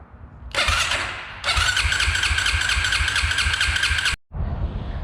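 ATV engine cranking repeatedly without catching after sitting with watered-down gas, choke on; a loud, close grinding whir runs for several seconds, cuts off briefly, then resumes.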